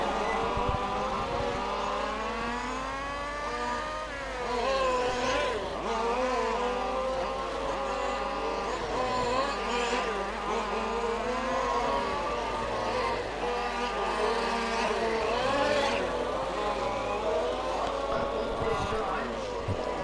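RC Formula-class model race cars racing on a track at a club race in Groningen, a continuous whining buzz of several engines rising and falling as cars pass close, with no gaps.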